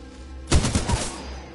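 Titanfall 2 gunfire erupts after a quiet lead-in, a rapid burst of several close, loud shots in quick succession that tails off into a lingering rumble.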